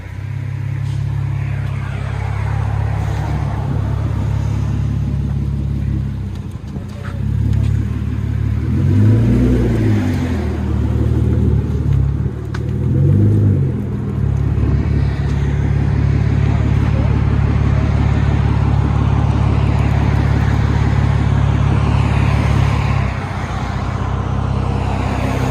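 A 2015 Hyundai Genesis Coupe 3.8L V6 with dual exhaust, a rear muffler delete and 4-inch black tips gives a steady droning idle, then two short throttle blips that rise and fall, with traffic noise behind.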